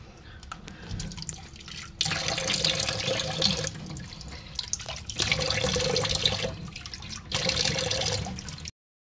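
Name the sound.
running water from a tap while rinsing the face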